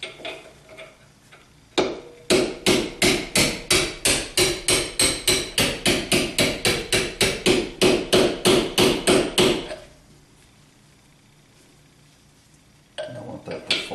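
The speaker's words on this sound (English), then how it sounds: "I just take a little punch and drive it the rest of the way through." A rapid run of about two dozen sharp metallic hammer strikes on a punch driven through a Jeep Wrangler door hinge, close and loud, evenly spaced, then the pounding stops and a quiet pause follows.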